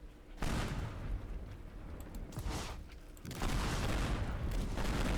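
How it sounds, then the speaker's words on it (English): Jericho explosive going off in the video game Teardown, a loud broadband blast with heavy low rumble that swells, briefly eases, then surges again into sustained crumbling roar. "That was a big explosion"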